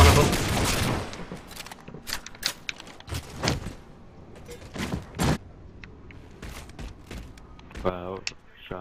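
Gunfire in the Halo 4 video game, scattered bursts and single shots at varying loudness, with players talking over the action throughout.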